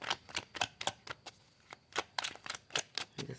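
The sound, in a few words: shuffling a tarot card deck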